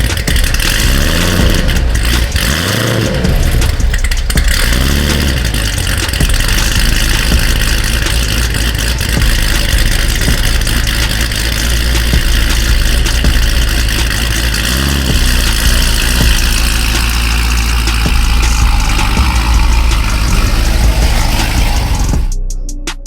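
A 1000HP C7 Corvette Z06 with a big cam and Magnuson 2650 supercharger idles loud and close, a steady deep rumble broken by a few sharp throttle blips early on, cutting off abruptly at the end.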